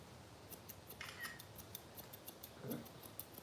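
Grooming scissors snipping a Boston dog's fur, a quick run of soft, crisp clicks in a regular rhythm, close and faint in a quiet room.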